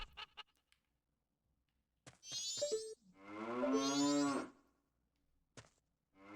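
Cows lowing in the Zelda game Majora's Mask, two long drawn-out moos in succession with short clicks before and after, clear and close with no talk.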